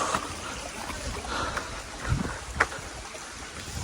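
Rushing water at a waterfall in Balasore fills the air with a constant broadband wash, with a couple of brief louder splashes.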